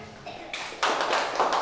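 A classroom of students claps for a presenting group, the clapping starting sparse and swelling into brisk, close applause in bursts, with some talk mixed in.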